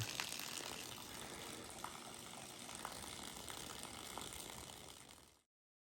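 Steady rushing water flows continuously through a newly installed gutter for several seconds, with faint clicks mixed in, then cuts off abruptly.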